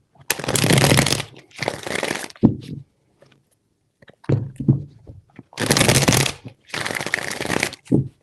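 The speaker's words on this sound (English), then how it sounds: "Three shuffles." Tarot cards are shuffled by hand in several quick bursts of crisp riffling and rustling, close and fairly loud, separated by short pauses and softer handling taps.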